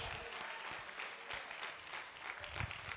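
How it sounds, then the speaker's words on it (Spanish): A church congregation applauding the Lord, a soft, distant, continuous patter of many hands clapping, evenly sustained and fairly faint. "Denle un aplauso fuerte a ese Señor"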